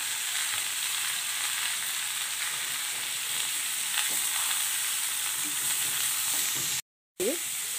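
Flat beans (sim) fry slowly in a pan with a steady, even sizzle throughout, broken by a brief gap near the end followed by a light scrape.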